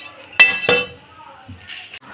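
A metal lid is set over a pot of khichuri, giving two bright clinks in quick succession followed by faint kitchen rustling, close and clear.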